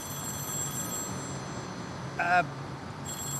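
A telephone rings once, in a brief electronic burst, over a steady background hum.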